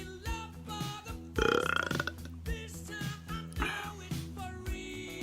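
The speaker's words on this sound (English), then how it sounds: "I could burp." A loud, drawn-out belch rumbles up in the middle of the stretch over a steady musical backing, with shorter burp-like croaks around it, close and prominent.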